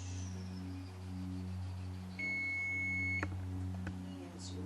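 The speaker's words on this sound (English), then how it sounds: "the timer is going off" A kitchen timer goes off while perogies bake: a single steady electronic beep held for about a second over a low constant hum, followed by a few faint clicks, moderately quiet and with no talking.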